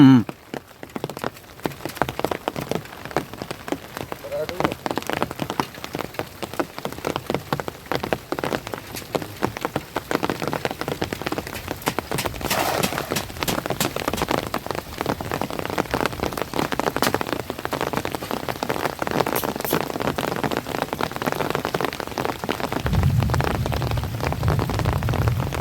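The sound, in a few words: heavy rain falling while fishing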